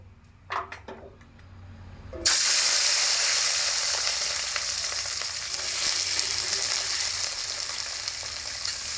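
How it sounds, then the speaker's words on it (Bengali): Runner beans hit hot oil with a sudden loud sizzle after a few brief clatters, then fry in a steady, dense hiss that carries on to the end. "তেল গরম হয়ে গেলে প্রথমে বরবটিগুলোকে দিয়ে ভেজে নেব"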